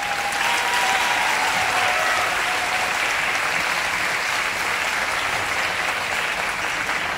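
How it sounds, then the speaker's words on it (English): A dense, steady wash of audience applause follows a classical dance performance by the dancers of Shankarananda Kalakshetra, filling the whole stretch at an even level with no talk over it. "We must give a huge round of applause to man"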